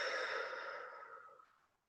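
A long, steady exhaled breath during a guided belly-breathing relaxation session, a soft airy rush that fades out over about two seconds, close and alone.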